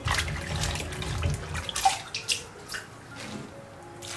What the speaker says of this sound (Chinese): 加入适量清水，把红枣煮软。